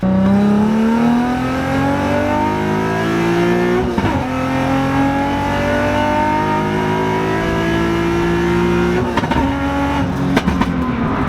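A Nissan G35 fitted with a new, lighter wheel setup accelerates hard, its engine note climbing steadily through the gears in one long, loud, continuous pull with brief dips at the shifts.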